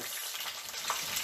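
Onions fry in hot oil for ribs and greens, a steady loud sizzle and crackle filling the short stretch without any talk.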